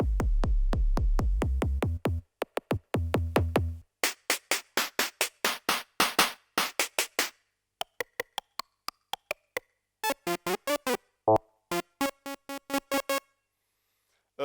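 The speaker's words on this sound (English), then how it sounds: "This is kind of just like any old drum machine." A Teenage Engineering drum machine plays its built-in sounds one after another: deep booming kicks, sharp clicks, snare hits and pitched electronic blips, each isolated and separated by short gaps, loud and close with no talking.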